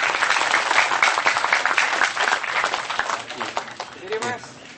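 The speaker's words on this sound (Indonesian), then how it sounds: "Tepuk tangan untuk Mas Agung." Applause for Mas Agung at a Kenduri Cinta gathering, with a crowd clapping loudly and steadily and then gradually thinning out, while voices are heard near the end.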